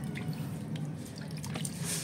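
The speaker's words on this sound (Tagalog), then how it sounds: "Diligan po natin, dahan-dahan po." Water is poured slowly onto the soil of a potted Philodendron Brasil, giving soft close drips and trickles over a low steady hum.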